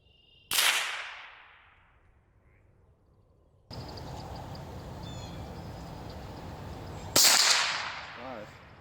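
A Winchester 21Sharp fires at a target on an outdoor range, giving two loud, sharp cracks about seven seconds apart. Each crack has a long decaying tail, and a steady background noise runs between them.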